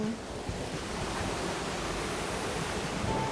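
Pha Thap waterfall flows down the mountainside with clear, cool water, a steady, broad rushing roar that fills the scene without pause and with no voices.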